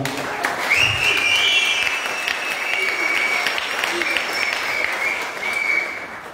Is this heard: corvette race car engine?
no